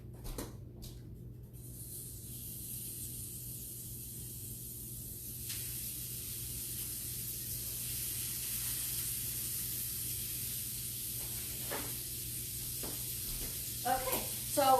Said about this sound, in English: I'm just going to pop these on my cast iron grill that I have going